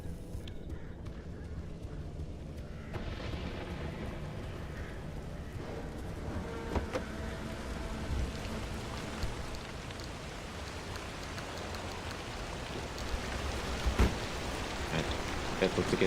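Steady rain falling in the survival driving game Pacific Drive, a dense continuous hiss and patter with a few brief louder spikes, no thunder clearly standing out.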